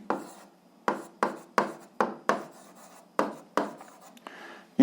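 Pen strokes on paper while working an 8th-grade algebra exercise, a series of short scratchy bursts in an irregular rhythm, close and fairly quiet, with no talking.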